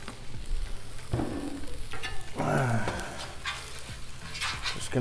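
Eggs frying in oil on a Blackstone griddle give a steady close sizzle, with scraping spatula strokes and occasional clanks over the crackle, and no talking.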